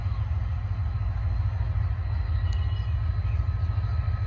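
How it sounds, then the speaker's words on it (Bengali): A slow-moving train approaching, a low steady rumble that stays even throughout at moderate distance, with no talking. "ট্রেন আসতেছে অনেক আস্তে আস্তে"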